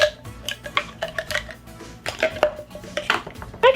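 Metal cutlery clinking and rattling as pieces are handled, with scattered light taps and scrapes over soft background music.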